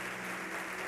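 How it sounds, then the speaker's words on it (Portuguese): A church congregation applauds during a sermon, a steady, dense wash of clapping heard from some distance with no break. "Dê um aplauso ao nome do Senhor Jesus."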